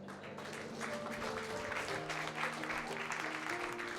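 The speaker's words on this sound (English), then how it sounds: "Let's give him a big round of applause, everybody." Steady applause from a livestream or event audience for a player about to run the RPG Earthlock, sustained and fairly even throughout, with faint tonal music and a possible voice underneath.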